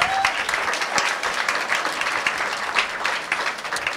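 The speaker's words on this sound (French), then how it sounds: "On va les accueillir tous ensemble, les applaudir tous ensemble" An audience applauds guests being welcomed at an evening celebrating a social sciences publication's tenth anniversary, a dense, steady wash of clapping from many hands throughout, fairly near.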